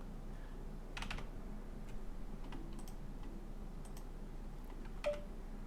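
Keys tapped on a computer keyboard in a quiet room: a few soft, faint clicks spread over several seconds above a low steady hum, with no voices.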